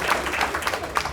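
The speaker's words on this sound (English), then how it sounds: "Y'all gotta clap now" Audience applause at a recovery month event in Hollywood, Florida, a brief steady patter of many hands clapping together, moderately loud and continuous.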